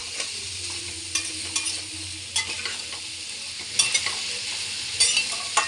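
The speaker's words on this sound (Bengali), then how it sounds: "জালটা আমি এখন একটু বাড়িয়ে দিলাম, দিয়ে ভালো করে এটাকে আমি কষতে থাকবো।" Bottle gourd and shrimp with turmeric are sautéed in a pan over raised heat. A steady sizzle runs underneath while a spatula scrapes and clinks at irregular intervals, close up with no talk.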